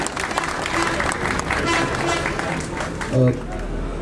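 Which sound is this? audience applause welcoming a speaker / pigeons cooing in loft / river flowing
audience applause welcoming a speaker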